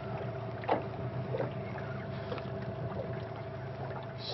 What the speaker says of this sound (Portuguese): O barco vai bem devagarzinho.